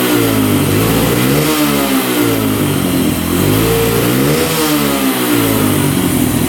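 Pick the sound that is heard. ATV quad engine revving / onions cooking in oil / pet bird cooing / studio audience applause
ATV quad engine revving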